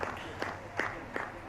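A tennis crowd at a Billie Jean King Cup match applauds in a brief burst of close, dense clapping, with a few sharper claps standing out and a voice faintly underneath.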